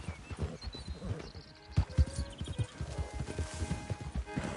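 Horse hooves clip-clopping in the video game Red Dead Redemption 2, a steady run of close, fairly loud hoof beats with brief game sounds above them and no talk.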